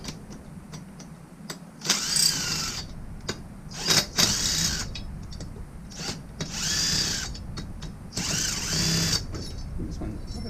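Screws are backed out of an electric motor during disassembly with a power driver, which whirs in four short, loud bursts over a rattling workshop background while someone talks between them.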